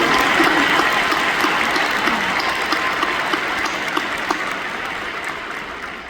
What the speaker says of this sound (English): Let's give Duana and Haley another round of applause